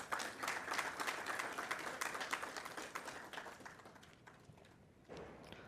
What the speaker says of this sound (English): May I please have a round of applause